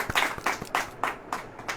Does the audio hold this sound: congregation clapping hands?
yes